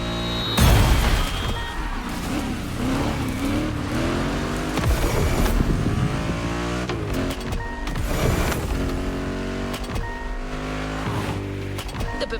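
A BMW Z4 M40i roadster in The Crew Motorfest roars loudly as it accelerates through gear changes, the engine note rising and dropping repeatedly with a tire squeal near the start.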